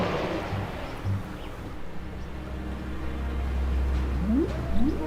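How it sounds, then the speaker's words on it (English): Whale song drifting over a swamp near a lighthouse in Assassin's Creed, a few long rising moans sliding upward over a steady low ambient rumble of water and wind. "whale song."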